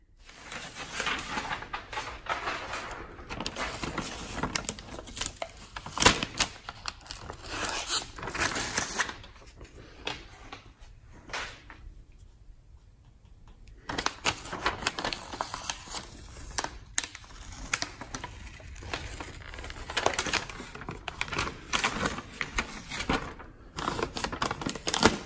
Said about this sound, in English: I'm gonna start peeling away some tape.